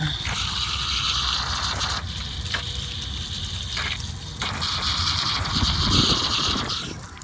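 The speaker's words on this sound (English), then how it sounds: "You just twist it and the water comes out." Water gushes steadily from a garden hose twisted onto a spigot fitting at a commercial pressure-washing job, a loud, continuous rushing that swells slightly near the end.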